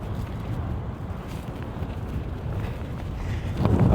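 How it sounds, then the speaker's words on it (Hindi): Strong wind buffets the microphone at the edge of a high Alpine mountain drop, a steady low roaring rumble that swells louder near the end, with no voices. "इतनी तेज हवा है"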